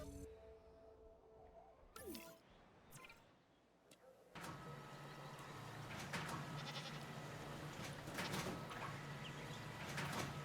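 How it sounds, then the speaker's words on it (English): Goats bleating in short calls in the video game Jurassic World Evolution, first over a quieter background, then amid loud, constant rumbling noise with occasional clatters. "Release the goats!"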